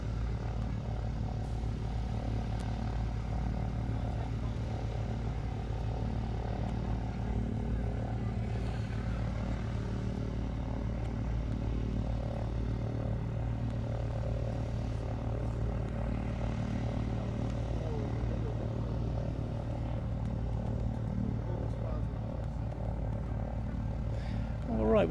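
Propeller airplanes drone steadily overhead at the IWM Duxford flying display, a continuous loud engine rumble that holds throughout with faint voices in the background.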